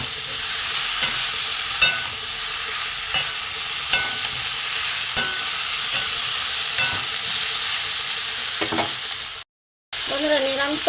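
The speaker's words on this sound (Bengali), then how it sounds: "মশলা দিয়ে কষিয়ে নেবো।" Ground turmeric, chilli, coriander, cumin and grated ginger sauté in a pan for a vegetarian fig curry, a constant close hiss punctuated by regular spoon scrapes about once a second, then a brief dropout and a bubbling return.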